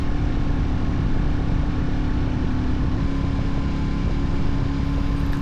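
A single-cylinder Royal Enfield Classic 350 motorcycle engine drones steadily and loudly under load while climbing uphill, a constant low thrumming with wind rush, no voices.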